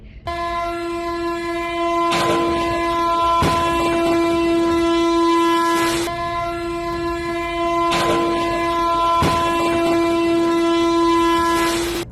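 The horn of the Gonda–Asansol Express blares steadily as it rushes past a level crossing in Jharkhand, with rhythmic clacks of the wheels over rail joints at regular intervals.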